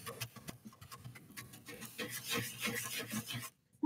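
Sandpaper rubbed back and forth over something wooden, a steady close raspy scraping in quick strokes that fills nearly four seconds, then stops abruptly just before the end.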